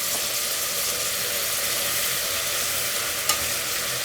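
A rice mixture with salt and ginger paste is stirred in a pot for vegetable kichidi, giving a continuous close scraping and sizzling hiss with one brief clink near the end.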